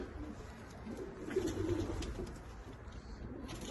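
Soft, low homing pigeon cooing swells in the middle, a gentle throaty murmur heard fairly close over a steady background hum.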